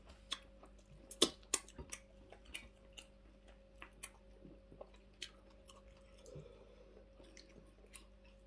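Purple fufu with black bitter leaf soup being eaten close to the mic, with soft wet squishy chewing and a few sharper bites and clicks spread irregularly over a quiet background hum.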